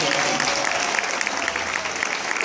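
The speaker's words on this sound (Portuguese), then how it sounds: "Palmas pro Douglas também" An audience applauds a music teacher with steady, dense clapping from many hands, moderately loud and continuous throughout the short burst, with no one speaking over it.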